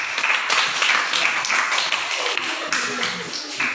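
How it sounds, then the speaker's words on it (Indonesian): A classroom gives group 2 a round of applause: continuous, fairly loud, dense clapping from many hands that carries on for several seconds without a break. "berikan tepuk tangan untuk kelompok 2"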